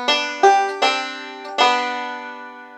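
Banjo playing measure four of Grandfather's Clock: two quick eighth-note plucks then two ringing quarter-note pinches, bright close tones decaying cleanly, with no voice over them.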